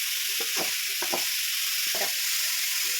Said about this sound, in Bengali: ভালো করে কষে নেব, সবজিটা ভালো করে কষে নেব।